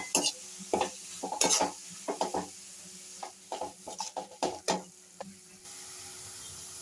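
A spatula scrapes and stirs spinach in a pan of tempering in quick irregular strokes, with a faint sizzle underneath.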